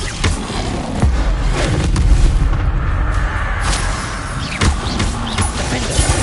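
Confringo blast spell in Hogwarts Legacy, a rapid string of booming magical impacts and crackling bursts, loud and dense throughout with no talking.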